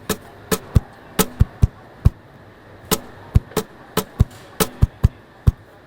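A song's rhythm tapped out on an acoustic guitar body, a steady groove of roughly sixteen close, crisp knocks mixing deeper kick thumps and sharper snare slaps, with no talking.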